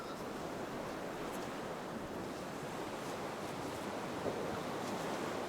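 Atlantic Ocean surf rolls onto a quiet, secluded stretch of sand at Cherry Grove Point, North Myrtle Beach, a soft continuous wash of breaking waves with light wind noise, fairly faint and steady, with no voices.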